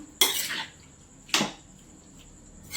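A pan of gooseberry pickle with added salt is stirred, giving two short scraping, clattering bursts of a spoon against the pan with quiet pauses between them and a third starting at the end, with no talk.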